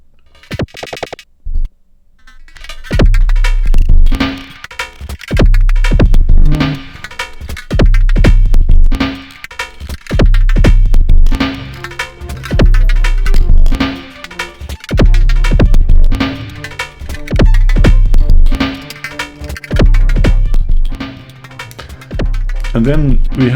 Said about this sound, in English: Battalion drum machine, which sounds